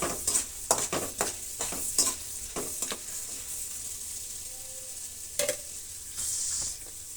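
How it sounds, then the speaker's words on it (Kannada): Chana dal frying in oil in a pan for upma, a soft steady sizzle with sharp clicking spoon strokes against the pan at irregular intervals, close and alone. "ತುಂಬಾ ಕಪ್ಪಗಾಗ್ದಿರ ಫ್ರೈ ಮಾಡ್ಕೋಬೇಕು."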